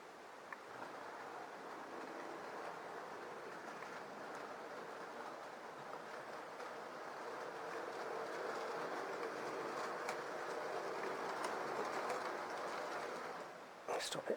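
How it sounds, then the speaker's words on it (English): A Dapol Pendolino model train runs along a layout, its steady rolling rumble and faint rail clicks holding at low level for the whole stretch, ending in a brief sharp clatter. "here comes the Dapol Pendolino"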